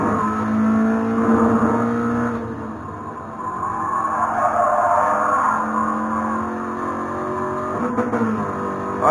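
A Toyota GR86 drifts in a racing video game, its engine droning steadily and loudly throughout while the tyres skid and squeal through the slide, with no voices over it.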